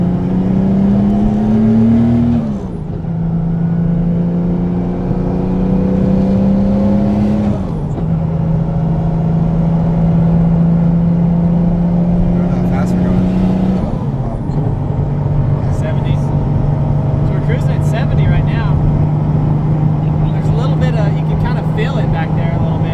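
A 2JZ-swapped Ford Mustang tows a tire trailer on the highway, its engine droning steadily with pitch rising and dropping through gear shifts, loud and close inside the cabin under constant road roar.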